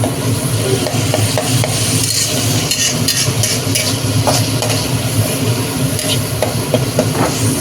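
Catla fish fat fries loudly in a pan, a constant close sizzle and hiss with steady scraping and knocking of a stirring utensil against the metal, no voices.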